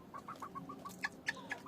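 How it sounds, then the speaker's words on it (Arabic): A hen and a red rooster cluck nearby in a rapid, uneven series of short calls, with a few sharper, louder clucks toward the end and no talking. "اللي هي الفرخة اللي هي دي اللي رفع ديلها جامد دي، ومعاها الديك الأحمر ده"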